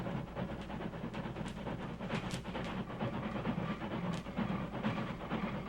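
Radio drama sound effect of a steam train arriving, a continuous chugging rumble with rhythmic clatter and hissing bursts, steady and fairly close, no voices.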